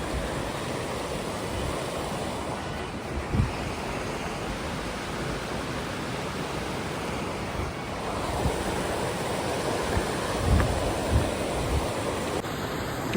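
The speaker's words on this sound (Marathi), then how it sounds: "मस्त फ्रेश पाण्याची नदी वाहते." River water flows in a constant broad rush, close and fairly loud, with occasional low bumps of wind against the microphone, at a freshwater river near Jibhi in Himachal Pradesh.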